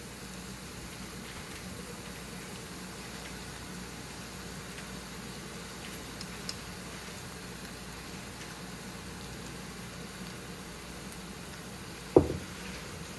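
Onions frying in oil with mustard seeds and cumin for a sweet potato poriyal give a faint, steady sizzle throughout, with one sharp knock near the end.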